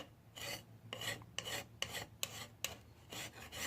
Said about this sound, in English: Scraped right off of there.